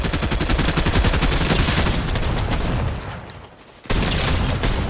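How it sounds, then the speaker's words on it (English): Light machine gun fire in the Fortnite video game, a loud rapid burst of shots that continues for about three seconds, drops away briefly and then starts again. "Someone's shooting pretty fast, dude. Yeah, he's got a light machine gun."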